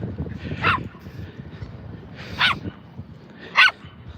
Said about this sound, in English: Oh, Juno, that bark is so loud.